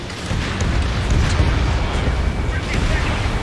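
Missile launch and explosion in the Ace Combat 7 game, a continuous heavy rumbling roar with scattered bursts, loud and near.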